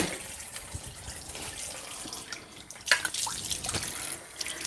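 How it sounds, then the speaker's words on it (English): Tap water runs steadily while dirty kitchen utensils are rinsed in a dishpan, with splashing, dripping and occasional clinks of metal, close and continuous. "So I'm rinsing and putting the dirty utensils"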